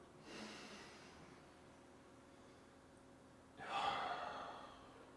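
Two deep, audible exhales come during a guided breathing exercise: one breathy rush near the start and a stronger one a few seconds later. Both are faint and close, separated by quiet.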